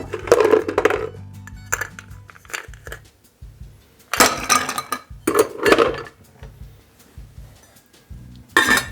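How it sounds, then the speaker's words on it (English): Ice cubes clatter into a mixing glass already holding four ingredients for a coffee-infused, fat-washed Campari cocktail, with several loud bursts of rattling and clinking separated by quieter gaps. "Ice our mixing glass."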